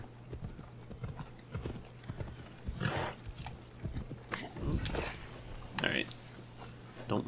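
Rhythmic horse hooves from the video game Assassin's Creed Odyssey clip-clop steadily with a low hum underneath, while a person talks intermittently over them.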